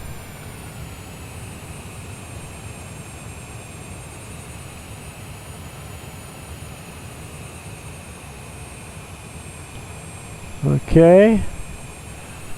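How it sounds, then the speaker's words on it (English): Citation Longitude business jet in a flight simulator, thrust reversers deploying on landing: a steady engine roar throughout, then a brief rising surge near the end, with a short spoken word. "Here we kicked our reversers in."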